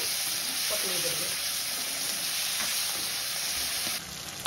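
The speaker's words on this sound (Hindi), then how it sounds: "अब इस स्टेज पर हम 1 कटा हुआ टमाटर डालेंगे।" Chopped tomato fries in a pan for a Navratri thali dish, a steady, even sizzle with soft crackles and occasional stirring scrapes, fairly close and unbroken throughout.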